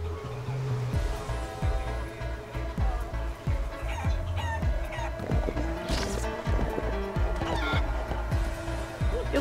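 Repeated clucks and squawks from a game chicken in Guacamelee, scattered through a busy mix of percussive thumps, jump and hit effects and background music.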